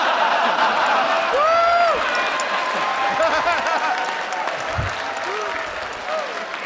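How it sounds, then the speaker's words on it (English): A studio audience claps and cheers, a loud, sustained wash of applause with whoops and laughter mixed in, fading slightly toward the end while voices call out. "Stop clapping."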